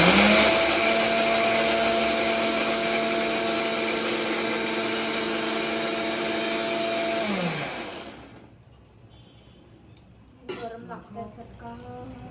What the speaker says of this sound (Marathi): गाईज आता शेंगदाणे वाटते मी.